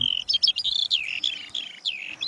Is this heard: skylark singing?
yes